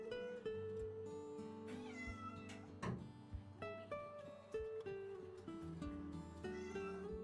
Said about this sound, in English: Bathing a cat who absolutely did not get to being part of this existential crisis.